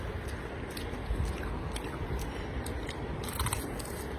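Crispy fried papad being bitten and chewed close up, a run of sharp crunches and crackles over a constant muffled background.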